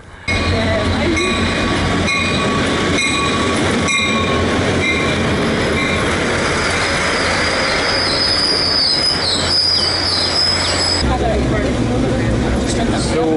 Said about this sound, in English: So we're on the train on our way to Los Mochis.